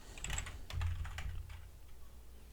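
Rapid typing on a computer keyboard entering text into a cloud web page, a steady patter of close key clicks in a quiet room with no talking.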